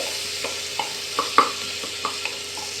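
Chopped onions fry in a pan with bay leaf and ground spice paste for ghugni, a steady close sizzle punctuated by a handful of sharp taps and scrapes as a spatula stirs them, with no voices.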